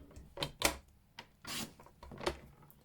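Cardstock being scored and trimmed on a paper scorer for a lidded lipstick box, giving several short dry rubbing and rasping strokes spaced through the clip, close and moderately quiet, with no talking.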